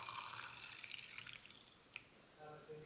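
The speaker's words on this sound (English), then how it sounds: "And we'll pour in our hot water." Hot water trickles from a kettle onto loose vanilla pu-erh tea leaves in a steeping cup, a faint thin pouring sound with soft drips, close and quiet, ending with a brief clink.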